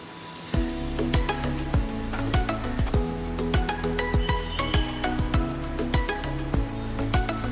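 Gram flour (besan) dry-roasting in a pan for Mysore pak, stirred steadily with a utensil that scrapes and knocks against the metal in a quick, uneven rhythm of close, ringing clinks and taps.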